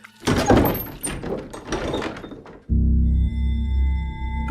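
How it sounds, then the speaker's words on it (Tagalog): A door bursts open with a series of hard, loud thunks and knocks, then a sustained low rumbling tone follows, close and with no talk. "biglang bumukas ng malakas ang pinto. Lumagabog yun sa dingding"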